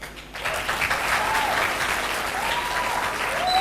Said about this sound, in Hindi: एक बार तालियां तो बनती है।